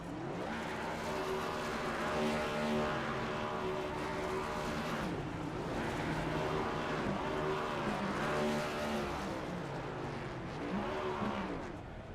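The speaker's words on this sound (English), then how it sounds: "he'll burn it down to the front straightaway for the USPS number 88 Camaro" Video game race car, the number 88 Camaro, doing a burnout down the front straightaway at Homestead-Miami Speedway, a sustained engine roar with shifting pitch and tire noise, loud and continuous without speech.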